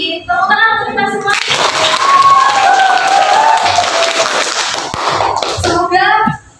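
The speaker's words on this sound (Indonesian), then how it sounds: "Tepuk tangan untuk kita semua." Classroom applause from students during a history lesson, a burst of clapping and cheering that swells for several seconds after speech, with talk before and after.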